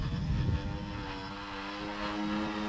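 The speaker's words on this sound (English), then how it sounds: "in hover mode I can just fly it back towards me like a helicopter" A small VTOL model aircraft hovers with its propellers spinning, giving a steady, continuous multi-toned buzzing hum at fairly close range, with no talking.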